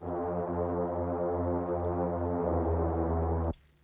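A deep, sustained synth pad, pitched two octaves down, holds one rich low tone steadily for about three and a half seconds, then cuts off abruptly into near silence.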